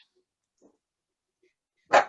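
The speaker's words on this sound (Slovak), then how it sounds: "mám takého psa, ktorý je na mne závislý, ale vždy šteká v nesprávnu chvíľu" A single dog gives one short, sharp bark near the end of an otherwise quiet indoor moment, with only faint traces of sound before it.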